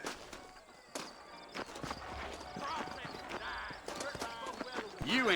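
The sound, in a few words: horses walking, hooves clip-clopping, Red Dead Redemption video game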